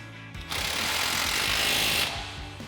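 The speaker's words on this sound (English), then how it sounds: "Now we'll go ahead and use our 19mm socket on our impact to tighten this back down." A pneumatic impact wrench with a 19mm socket hammers a bolt tight on a truck upper control arm suspension lift install, one loud sustained rattling burst of about a second and a half, close up.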